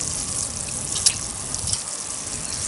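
Water poured from a watering can onto newly planted Crocosmia (Montbretia) corms in soil, a continuous close splashing gush with a few small drips and knocks.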